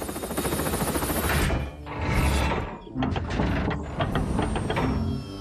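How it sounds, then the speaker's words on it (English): Jammed cartoon helicopter rotors grinding and ratcheting in loud mechanical bursts that sputter and stall, broken by short gaps. "My rotors are jammed!"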